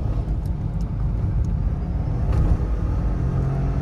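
Engine and road noise from inside a turbocharged Hyundai Venue pulling hard in second gear, a steady, loud low rumble with no talk over it.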